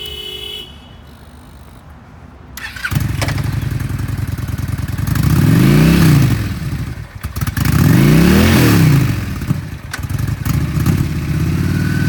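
A used 2015 Honda Shadow Aero 750cc V-twin cruiser motorcycle idles, then revs hard twice in strong rising-and-falling bursts before settling back to a loud, steady idle, close by with no talking.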